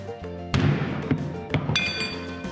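Several sharp metallic strikes land at uneven intervals, each ringing briefly, with a steady hum and clatter underneath.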